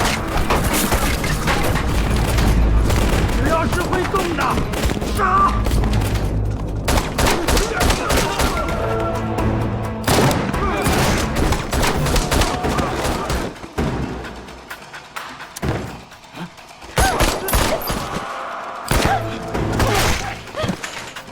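Bandits fire bursts from their rifles while raiding a village in an action film, a dense barrage of loud cracking shots and thuds that thins out and returns in the later stretch.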